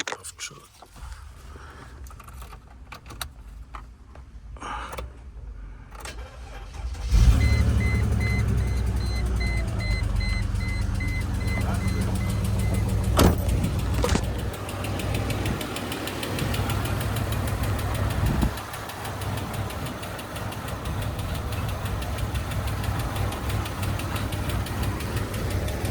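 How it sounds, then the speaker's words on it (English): A 1999 Mercedes ML320 engine cranks over a few seconds of clicks and whirring, then catches and settles into a rough, steady, knocking idle that runs on loudly and close by, with faint background voices. "try again to start the car"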